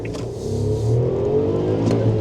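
A three-cylinder Suzuki Jimny accelerates hard from inside the cabin, its engine note rising steadily with a continuous loud, buzzy drone.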